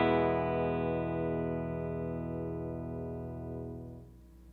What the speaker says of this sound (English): For the distortion, I'm using a Carl Martin Plexitone.